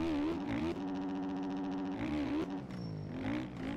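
Dirt bike engine in MX Bikes revving hard with a buzzing, steady high-pitched drone, dipping and climbing again as the throttle is worked, close and alone.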